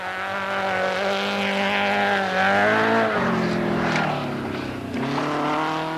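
A Datsun rally car races a stage at the 1986 Iceland rally, its engine loud and near, revving and changing pitch through gear shifts as it drives past.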